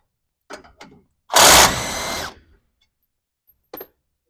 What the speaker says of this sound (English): we've got that last bolt pretty much loose now